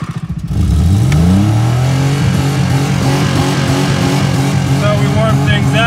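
A small RC car motor fires up and revs hard, a loud rising whine that climbs steeply in pitch then holds at a high buzzing drone, close and continuous, with voices talking over it.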